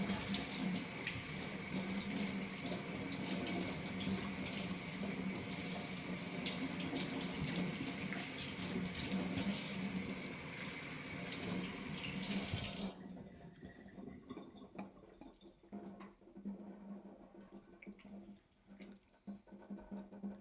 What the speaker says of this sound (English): Give it a little rinse, just to get rid of some of the excess salt.